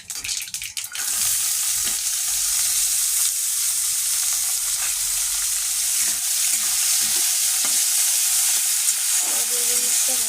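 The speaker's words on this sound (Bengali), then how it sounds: "গাজর বিনসটা ভালো করে কষিয়ে নিতে হবে তেলে।" Chopped carrots and beans sauté in hot oil for vermicelli upma, a steady close sizzle with faint stirring scrapes throughout.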